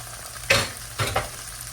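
Onions dusted with garlic powder frying in a pan for a stir fry with noodles, veggies and brisket, with two or three short bursts of sizzle and stirring close by.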